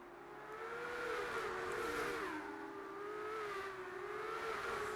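Race cars drag side by side down the main straight in the F1 23 video game, their engines droning and rising in pitch as they accelerate steadily, heard from a distance.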